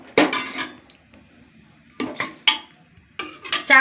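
Cooked mutton goes into a pressure cooker with several close metallic clanks and knocks of a utensil against the pot. Quiet pauses fall between the bursts.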